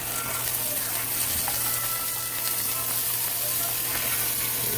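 Onion frying in a pan after the garlic for Filipino pork adobo, giving a steady, continuous sizzle with faint crackles throughout, fairly close and even in level, with no talking.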